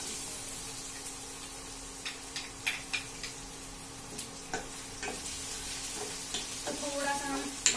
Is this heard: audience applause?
no